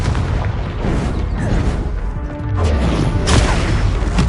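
Confringo blasting spell explosions in the Hogwarts Legacy video game, a dense run of loud booming blasts and crashes that swell toward the end, with no talking.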